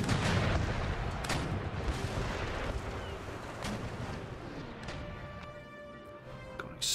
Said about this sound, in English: Got an explosion to the rear.